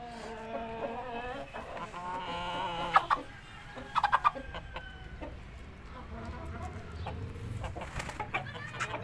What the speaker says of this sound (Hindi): ये माशाल्लाह जगीरी मादी है, उसके साथ पाकिस्तानी मुर्गा खुले कीलों का।